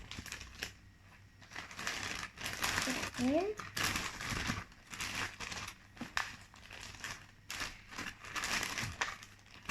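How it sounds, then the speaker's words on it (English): Crinkly plastic bag rustling and crushing in bursts throughout, fairly close, while covering a peperomia cutting for propagation, with a person speaking briefly over it. "I'm going to use my plastic bag."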